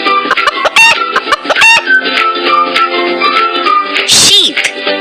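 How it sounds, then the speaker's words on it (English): Clucking and squawking chickens, with sharp short calls and a higher cackle near the end, busy and close. "Chicken."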